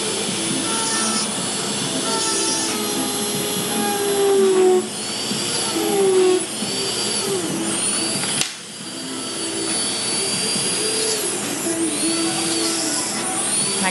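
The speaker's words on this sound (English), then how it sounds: "You gotta put the drill on high speed to drill the holes." High-pitched whine of an electric drill on high speed boring holes in marble, running almost nonstop, pitch shifting as the bit bites in, with brief dips and one sharp break partway.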